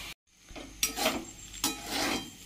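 Cooked rice is tipped into a pan of fried spices, giving a few soft scraping and clattering bursts of utensil against pan with faint sizzling, quiet and close.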